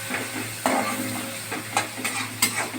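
Dried chilli, bay leaf and whole cumin crackle and sizzle in hot oil for a Bengali curry, a close steady fizz broken by a few sharp spatula scrapes and pops.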